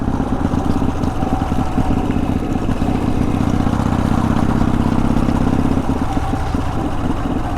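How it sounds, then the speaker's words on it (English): The engine of a 1988 Harley Softail Custom is heard while riding, a loud, steady low rumble with a pulsing, throbbing texture and faint clatter, close up and without talking. "I'm on the 88 Softail Custom today."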